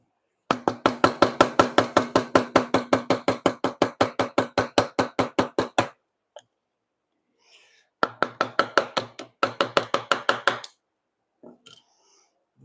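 A wooden dovetail being chiseled by hand in a woodshop, a rapid run of about thirty sharp, even knocks, then a pause and a second shorter burst, close and loud.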